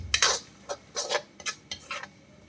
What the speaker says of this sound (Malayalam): ഇനി ഇതിൻ്റെ ആ ഒരു പച്ച മണം മാറുന്നത് വരെ നമുക്കൊന്ന് വഴറ്റിയെടുക്കാം